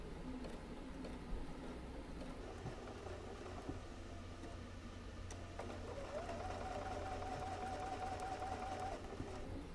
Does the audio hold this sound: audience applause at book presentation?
no